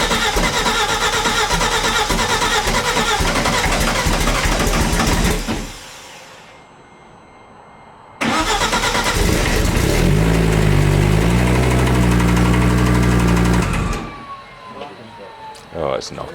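A Group S Audi rally car's engine cranks and fires loudly at close range, roars steadily, dies into a short quiet gap, then restarts and runs with a knocking fault, under people talking.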